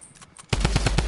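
A video-game gun sprayed on full auto: after half a second of near quiet, a sudden loud burst of rapid, evenly spaced shots, about ten per second, runs to the end.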